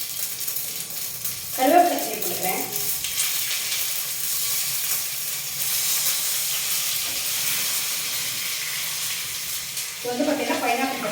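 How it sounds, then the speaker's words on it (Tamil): Continuous crackling sizzle of mustard seeds popping in hot coconut oil, close and steady, with brief bursts of a voice talking over it. "தேங்காய் எண்ணெய் வந்து விட்டுருக்கேன் நல்லா ஒரு ரெண்டு ஸ்பூனுக்கு கடுகு போட்டுக்கலாம்"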